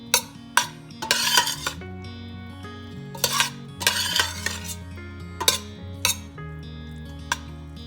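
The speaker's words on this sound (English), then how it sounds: "So just toss up those noodles until that butter melts down." Buttered egg noodles tossed in a metal pot: a utensil scrapes and clanks against the pot in irregular bursts, with clinks and soft stirring in between, close by and with no voices.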